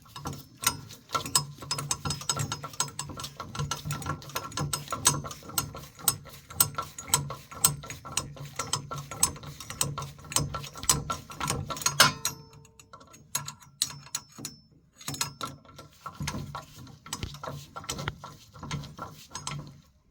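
A hand ratchet threads a bolt back out of an engine sump. Rapid clicking pawl strokes come close and loud in repeated bursts, pausing briefly before the clicking resumes, with no voices.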